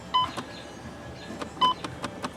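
Two short electronic beeps inside a Ford Focus with a headlight fault, about a second and a half apart, tinny and moderately close, over a low hum with faint clicks.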